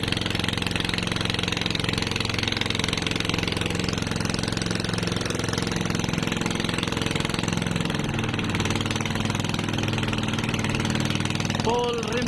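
A fishing boat engine runs at full throttle at a fishport, giving a loud, steady, rough mechanical roar that goes on without pause, with voices partly buried beneath it.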